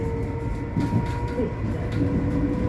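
Interior rumble of a Transport for Wales Class 230 train running, a steady low drone with a faint tonal whine and light rattles throughout, no talk.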